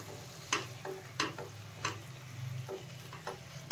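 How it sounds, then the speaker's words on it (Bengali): Chicken being stirred in an uncovered pan on a low flame, soft sizzling under a handful of sharp scraping stirs of the spoon against the pan, spaced about half a second apart. "একবার লিডটাকে আমি খুলে পড়ে ভালো করে একবার নাড়িয়ে দেবো চিকেনটা।"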